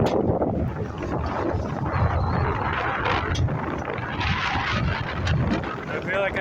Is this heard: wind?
yes